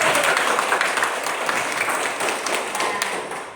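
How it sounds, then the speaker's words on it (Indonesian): Children clap together in a classroom, a full and fairly loud spread of overlapping hand claps that continues steadily and fades slightly toward the end, with no talk over it. "Coba tepuk tangan kita semangat"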